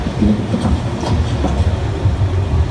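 Universal Studios Hollywood tour tram rolling along, a steady loud low rumble with faint rhythmic clatter throughout, no talking.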